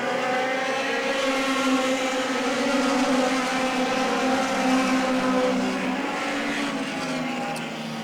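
Dirt track race cars roaring around Hagerstown Speedway, a loud, sustained multi-engine drone with layered revving tones that stays steady and close before easing slightly at the end.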